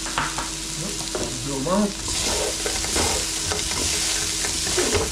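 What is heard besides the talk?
salt and pepper squid frying and being stirred in pan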